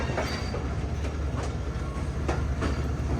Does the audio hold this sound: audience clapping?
no